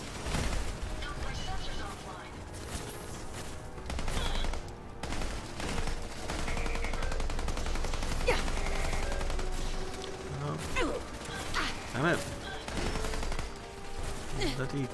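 Repeated gunfire bursts in Fallout 4 (Automatron add-on) during a fight with turret bots, sharp shots and rapid volleys popping over a busy game soundscape throughout, with someone talking over the action.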